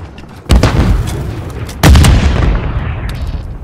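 Two sharp, loud blasts from stun grenades in Call of Duty Modern Warfare 3 multiplayer, about a second apart, each leaving a ringing tail that fades slowly, with no talk.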